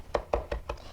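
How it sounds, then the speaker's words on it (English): Tarragon is chopped with a knife on a board: five crisp, evenly spaced taps in quick rhythm, close and clear, with no voices. "Chop the tarragon"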